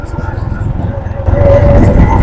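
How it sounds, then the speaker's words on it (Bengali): A motorcycle rides through Modhutila Eco Park in Sherpur, giving off a steady, close low engine rumble mixed with wind noise that grows louder and fuller partway through. "আমরা কিন্তু বাইক নিয়ে ঘুরছি"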